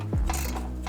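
A quick burst of ratchet clicks at close range, a 15 mm socket tightening the exhaust downpipe bolts on a Ford Bronco Raptor during an AWE SwitchPath exhaust install.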